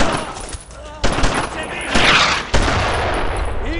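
Machine gun fire rattles in sharp, close bursts in the WWII shooter Brothers in Arms: Road to Hill 30, layered over battlefield noise as soldiers shout.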